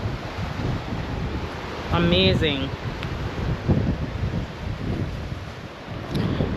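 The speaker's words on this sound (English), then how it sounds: "It's a bit windy." Steady wind buffets the microphone at a seaside lookout point, with a low roar of sea waves beneath and a person speaking briefly over it.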